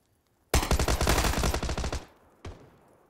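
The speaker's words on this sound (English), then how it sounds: "37 bullets in the Tommy gun of DMJK" A Tommy gun in PUBG fires one long rapid automatic burst of roughly a dozen loud, close shots lasting about a second and a half, then a single sharp report follows after a short pause.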